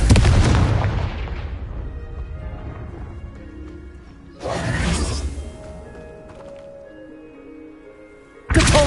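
Three loud Confringo fire-spell blasts burst out in Hogwarts Legacy, each a sharp explosive crack that trails into a fading rumble, spaced a few seconds apart.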